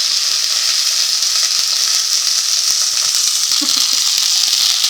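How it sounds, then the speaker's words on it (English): Sausages frying in a pan, a loud, continuous, close sizzle with faint crackles and a brief soft clink, no talking. "While the sausages are cooking"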